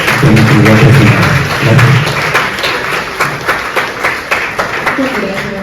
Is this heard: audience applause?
yes